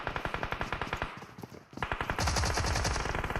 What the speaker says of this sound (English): A lot of shots on that right side.